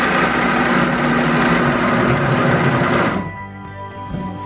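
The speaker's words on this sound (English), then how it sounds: "I'm gonna blend it on low for about 15 seconds." Blender running on low, mixing paleo bread batter, a loud steady whirring motor for about three seconds that then cuts out and leaves a faint residual hum.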